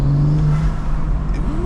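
A BMW M2 engine with a new intake revs up loudly and close by, a rising growl with a smooth whirring tone, with no talking.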